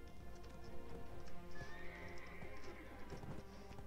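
Horse from the video game Black Desert, with steady clip-clop hoofbeats and a neigh or whinny over ambient game music and effects. No one talks.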